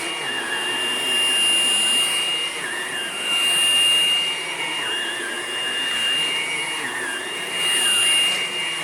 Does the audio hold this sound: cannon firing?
no